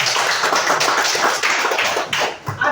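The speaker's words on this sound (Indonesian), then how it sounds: "Tepuk tangan buat Indra." A classroom of students clapping hands together, a dense burst of quick claps lasting a few seconds, fairly close and without speech.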